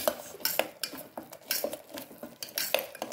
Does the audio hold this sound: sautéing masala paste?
yes